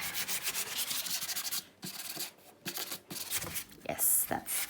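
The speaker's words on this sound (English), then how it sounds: "So I'm just gonna go over this, create some scratches," A sanding tool scuffs the surface of a paper number tag, producing close, brisk rubbing strokes in short bursts separated by brief pauses.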